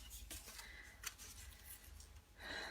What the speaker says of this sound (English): I'll find some ribbon scissors and cut that off.